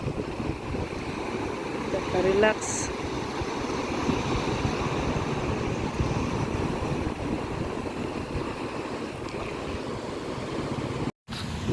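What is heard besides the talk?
sea waves by the boat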